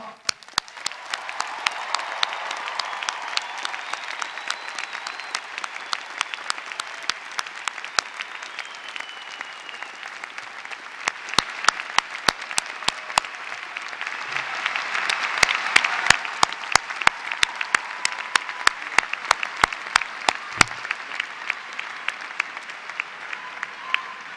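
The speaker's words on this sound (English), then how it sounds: "Please join me in a round of applause." A large commencement audience at a 2015 spring graduation applauds the conferral of degrees, a long sustained wash of many hands with sharp individual claps popping out near and far, swelling midway and then easing off.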